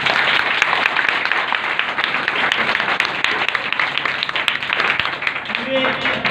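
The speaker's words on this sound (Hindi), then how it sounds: "एक बार डायरेक्टर साहब के लिए ताली बजाइए।" An audience claps and applauds at a career counselling workshop. The applause is dense and sustained and fills the whole stretch. A voice briefly speaks near the end.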